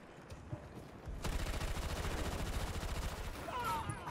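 Sustained automatic fire from a PKP machine gun in Battlefield 2042, a dense rapid rattle of rounds that bursts in after a quieter first second and keeps hammering loudly and continuously to the end.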